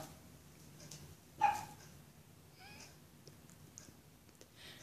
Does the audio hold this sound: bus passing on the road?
no